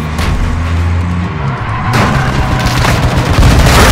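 A loud, sustained stream of gunfire from a gun mounted on a car hood in a video game, booming shots packed close together over engine rumble, growing heavier toward the end.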